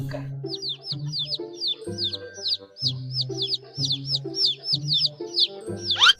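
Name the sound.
baby chicks cheeping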